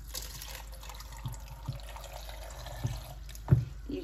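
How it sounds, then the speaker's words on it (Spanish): A small splash of water is poured over onion, garlic and chipotle in a blender jar for a poblano pepper sauce, a soft liquid trickle with a few light gurgles and clinks, close and quiet. "y un chorrito de agua."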